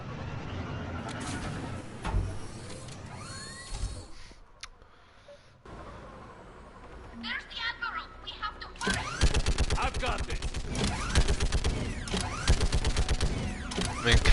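Gunfire in Mass Effect Legendary Edition, rapid rattling bursts that thin out midway, then return as dense, loud continuous shooting toward the end.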